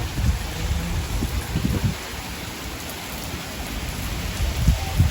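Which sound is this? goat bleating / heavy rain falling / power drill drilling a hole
heavy rain falling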